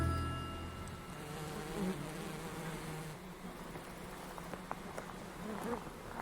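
Bees buzz steadily near their hive outdoors in Venaco, Corsica, a dense close hum with individual insects passing by, continuous and fairly loud throughout.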